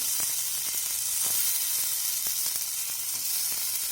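Chopped vegetables sizzle in a spoonful of oil on a dosa griddle, a steady bright hiss with scattered crackles and a few soft scraping taps running throughout.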